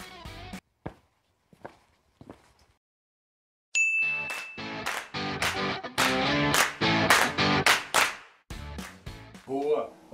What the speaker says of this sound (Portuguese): Então, roda essa vinheta!